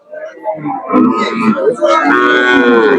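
A local cow moos at a rural cattle market, a long, loud, close lowing call with a rising wavering tone that fills the moment, with market voices faintly around it.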